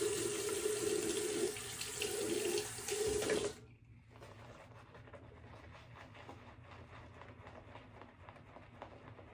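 Water running from a tap into a sink, a loud steady rushing splash for about three and a half seconds that cuts off abruptly, leaving faint dripping and quiet room noise.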